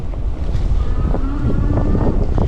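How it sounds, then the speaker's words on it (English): Strong wind buffets the microphone continuously while riding an electric bike uphill on a windy day, a loud, roaring rumble with gusty surges and no clear speech. "it's very windy and loud"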